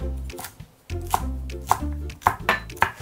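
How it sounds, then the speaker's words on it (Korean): Knife chopping radish or napa cabbage stems on a cutting board for water kimchi, a quick series of crisp, close, evenly spaced thuds with no talk. "줄기도요, 무나 배추 길이에 맞춰서 잘라주세요."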